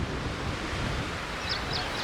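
A continuous wash of falling water, like a small cascade close by, steady and broadband with no talking.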